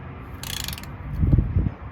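A short burst of mechanical clicking from a torque wrench tightening a lug nut on a 2019+ Hyundai Veloster N, followed by a low thudding rattle as metal parts settle, fairly close and clear.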